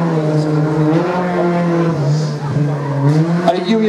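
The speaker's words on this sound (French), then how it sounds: "Allez, Bernard Chrétien, superbe voiture que Bernard." A race car at a hill climb drives past, its engine a loud, sustained buzzing drone that shifts slightly in pitch as it passes, while a commentator speaks over it.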